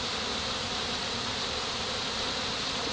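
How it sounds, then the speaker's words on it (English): A steady, dense buzz of many honeybees droning together at a hive after rain, continuous and fairly close, with no voices. "seeing what kind of bee activity is going on"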